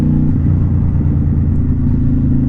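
A 2007 Honda Shadow Spirit motorcycle engine revs high after a downshift, a steady, loud, throaty drone close by that holds for the whole stretch with no one talking.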